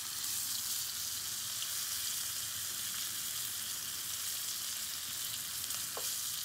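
Chicken pieces searing in a hot pan for an Indian-style chicken dish, a loud, constant hissing sizzle close up with no breaks.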